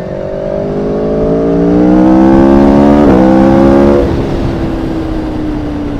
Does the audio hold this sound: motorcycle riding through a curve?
yes